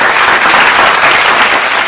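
Loud, dense crowd applause at a Philippine news broadcast event, steady and sustained with no break, many hands clapping together close up.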